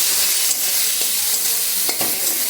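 Chopped tomato hits hot oil with fried cumin in a frying pan, making a steady loud sizzle that fills the whole clip. A few scraping stirs rise above the frying.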